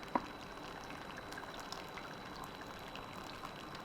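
Water pours from a Gevi 4-in-1 smart pour-over coffee maker set to medium rotation, a soft steady trickle and splash beginning with a brief click.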